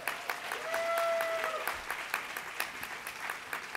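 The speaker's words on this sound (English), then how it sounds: "Let's give him a big round of applause." Audience applause at the National Immigrant Integration Conference, a dense burst of clapping that swells and then thins into scattered claps, with a brief tone sounding over it.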